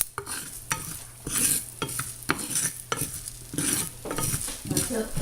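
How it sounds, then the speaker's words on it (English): Dry coriander seeds are roasted in a pan with brisk, repeated stirring. The rhythmic scraping and rattling sit close and moderately loud over a light sizzle, with no voices. "I'll start with the dry coriander seeds."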